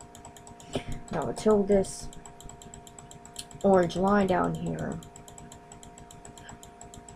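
A computer mouse clicks repeatedly while playing the Cookie Clicker game, giving a steady stream of small sharp taps that run under a person talking in two bursts.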